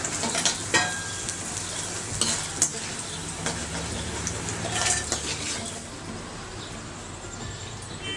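Mysore bonda frying in hot oil, a steady close sizzle with scattered spits and occasional clinks of a utensil against the pan.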